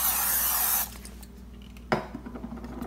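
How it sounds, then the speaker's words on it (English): Crisco Pam cooking spray hisses in a steady, loud burst for just under a second onto a heated pan ahead of egg whites, followed by quiet and a light clink. "Let me put a little bit of Crisco Pam spray so it doesn't stick"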